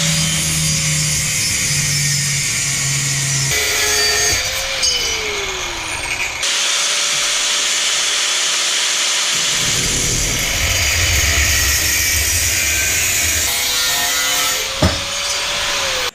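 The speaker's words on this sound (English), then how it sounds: "we're just going to have to use a good old angle grinder" An angle grinder cuts steel tubing for turbo Miata intercooler brackets, giving a loud, sustained abrasive whine close by that breaks off briefly and then resumes, with no talking.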